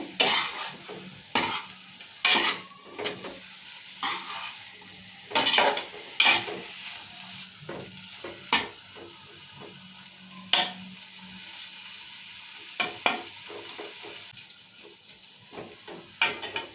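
A utensil stirs sliced bitter gourd in oil in a pan, giving repeated close scrapes and clanks over a faint, steady sizzle that runs throughout.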